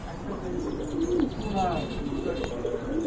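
Jet black Golla pigeons, a pair, cooing in low rolling phrases at close range, with a murmur of other birds and faint chirps around them and a steady background hum.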